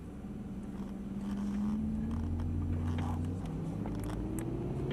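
Ferrari 458 on a race circuit at Croix-en-Ternois pulling away from a stop in first gear, its engine rising steadily in pitch as it accelerates gently, a continuous nearby drone inside the car.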